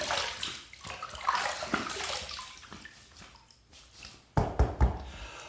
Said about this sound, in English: let's wet the face and get to the shave.